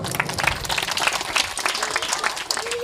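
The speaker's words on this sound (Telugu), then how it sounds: "చప్పట్లు కొడదాం." A children's audience at a church prize-giving claps in a steady burst of applause, close and fairly loud, with scattered individual claps throughout.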